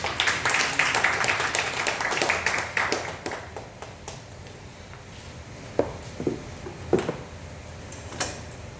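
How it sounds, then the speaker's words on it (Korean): Applause from an audience at an agricultural farming education session, a dense burst of clapping at first that thins into scattered individual claps and taps as it fades. "박수 한번 쳐주십시오."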